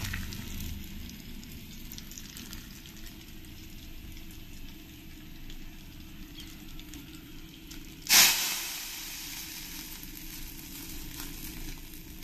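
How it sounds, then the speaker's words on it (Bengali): Radhuni seeds and four dried red chillies dropped into hot oil for a prawn and spinach ghonto, a sudden loud sizzling burst after a quiet hiss, then a steady fading crackle close by. "তেলটা গরম হয়ে গেছে। এবার আমি এর মধ্যে 1 চামচ রাঁধুনি দিয়ে দেবো আর 4টে শুকনো লঙ্কা দিয়ে দেবো।"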